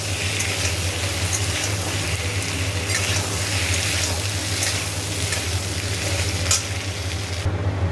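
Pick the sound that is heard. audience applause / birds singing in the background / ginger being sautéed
ginger being sautéed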